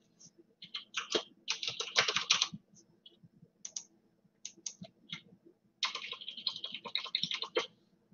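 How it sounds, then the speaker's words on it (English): Someone types on a computer keyboard in quick bursts of close, crisp key clicks, with short pauses between the runs. "type in a question"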